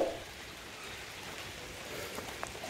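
Steady first monsoon rain falling in the Konkan region of India, a dense broadband hiss of drops on surfaces that runs continuously and evenly through the moment with no voices.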